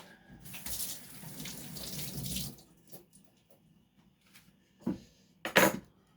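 Tap water runs into a sink for washing, a steady splashing stream for about two seconds, followed by brief softer trickles and a couple of louder splashes near the end.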